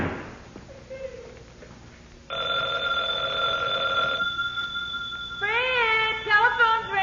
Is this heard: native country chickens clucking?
no